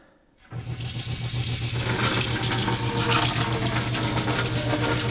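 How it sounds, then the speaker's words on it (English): Hot water tap turned on to fill a bucket in a test of a Thermomate ET110 water heater, a sudden hiss that builds within a second into a steady, close, loud gush of running water. "if I turn on my hot water"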